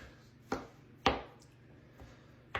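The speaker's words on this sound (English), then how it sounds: "I'm gonna sift through it, make sure for no shells, and give it a coarse chopping." A knife coarsely chopping snow crab meat on a board makes a few sharp, isolated knocks spaced about half a second apart, close and quiet with nothing else around them.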